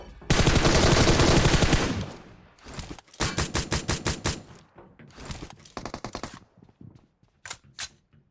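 Loud rapid gunfire in PUBG Mobile: a long sustained burst of automatic fire, then several shorter rattling bursts and scattered single shots, with no talking.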